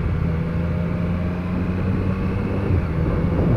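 A 2021 Triumph Street Triple RS engine drones steadily while the motorcycle is ridden, a low, even hum under wind rush with no speech.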